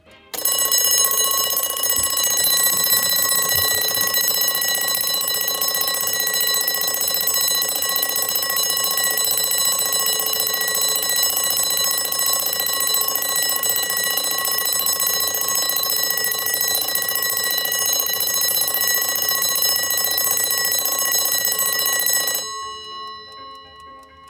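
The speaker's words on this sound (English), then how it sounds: "I'll just trip the alarm here." A Westclox wind-up alarm clock rings loud and close in one continuous metallic clatter for over twenty seconds, then stops abruptly, with no voices.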